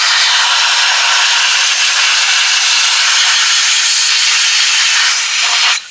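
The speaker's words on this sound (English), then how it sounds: "I'm going to use some air now. I have an air compressor." An air compressor set to 20 psi blows a loud, continuous hiss of air over an antique clock during restoration. The hiss holds steady throughout and cuts off abruptly at the end.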